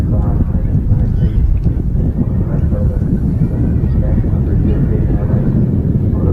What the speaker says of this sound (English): That wind has picked up.